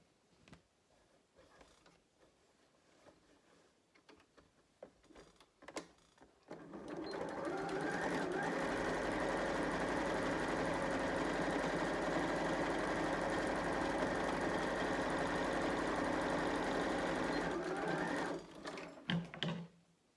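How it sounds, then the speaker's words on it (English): Sewing machine stitches natural linen in one long continuous run, starting after some quiet handling noises and stopping near the end with a few clicks; the steady motor hum and needle rhythm are loud and close. "I'm just going to stitch along there, 1 centimetre away from my overlocked edge"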